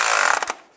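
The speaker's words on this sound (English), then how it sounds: "Tighten the bolts down." Ratchet wrench tightening alternator bolts on a 1999-2005 Volkswagen Jetta, a loud, rapid burst of close clicking that stops abruptly after about half a second.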